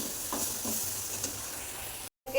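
Food sizzles and fries in a pan while being stirred, producing a steady soft hiss with faint scraping strokes, then a brief cut near the end.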